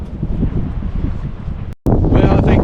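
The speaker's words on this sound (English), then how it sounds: "On a very blustery, windy day," Blustery wind buffets the microphone at Lees Ferry in a loud, steady rush, briefly cutting out before surging back even stronger.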